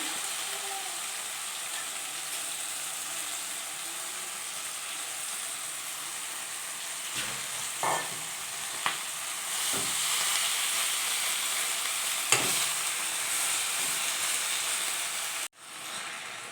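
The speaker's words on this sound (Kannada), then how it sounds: "ಮಿಕ್ಸ್ ಆದಮೇಲೆ ನಾವು ತೊಳೆದಿರೋಂಥ ಮೆಂತ್ಯ ಸೊಪ್ಪನ್ನ ಫ್ರೈ ಮಾಡ್ಕೊಳ್ಳಿ" Washed fenugreek leaves fry in a pan over a medium flame, giving a steady broadband sizzle that runs the whole time, with a few brief stirring scrapes near the middle.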